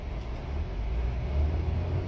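A car pulling away in traffic during a first driving lesson, heard from inside as a steady, close, low engine rumble with no voices over it.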